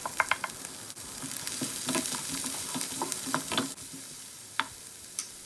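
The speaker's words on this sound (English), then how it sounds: "add your diced onions, minced garlic, and whites of the scallion, and stir fry for about a minute" Diced onions, minced garlic and scallion whites stir-frying in oil for kimchi fried rice sizzle steadily up close, broken by sharp clacks of a utensil scraping and tossing them in the pan.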